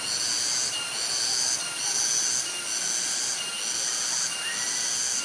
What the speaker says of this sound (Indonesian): Ini suara asli Tenggeret guys.